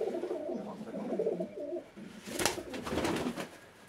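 Pigeons coo in a breeding loft of crowned pigeons, soft repeated low cooing calls close by, with a brief burst of rustling or wing flutter midway and no talking.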